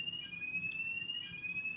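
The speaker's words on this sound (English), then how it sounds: "they're all in the car park because of this alarm" A building fire alarm sounds a steady, continuous high-pitched electronic tone, with faint low background noise and no speech.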